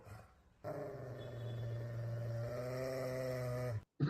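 A dog growls in a low, steady, sustained rumble for about three seconds, close and fairly loud, with harmonic overtones, cutting off abruptly near the end.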